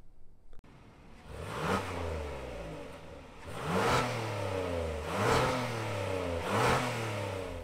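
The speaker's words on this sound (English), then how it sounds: "we're just gonna rev it" A 2021 Kia Telluride Nightfall Edition's 3.8-liter V6 is revved in four separate rising bursts, each climbing in pitch and then falling back. The engine sounds close and moderately loud, with no talking.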